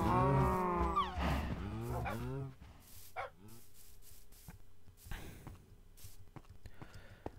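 Minecraft cows let out several overlapping, drawn-out moos close together, loud at first. Quieter game clicks and soft footsteps follow, with occasional faint speech.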